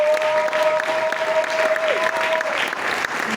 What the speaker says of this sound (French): sous vos applaudissements encore